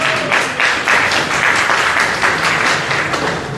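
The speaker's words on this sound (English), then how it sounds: "So big round of applause for Chantel Rahmi." An audience claps and cheers in a steady, loud burst of applause that carries on for a few seconds without pause.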